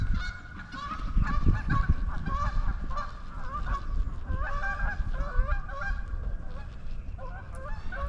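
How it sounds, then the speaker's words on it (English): A flock of geese honking continuously, many overlapping calls close by, loud and busy throughout with no voices. "See the geese out there."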